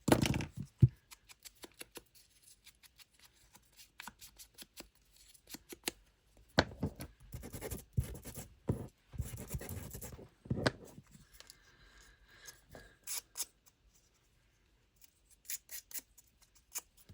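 Distressing scissors scraping and scratching across a wooden hidden-bookcase craft piece, giving close, irregular bursts of rasping strokes with short pauses between them, quiet overall.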